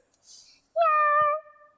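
A single drawn-out meow voiced by a child imitating a cat, clear and close, after a brief soft breath.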